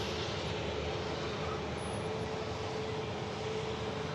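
A business jet lined up for departure at Manchester Airport gives off a faint, distant, even engine roar that stays constant throughout.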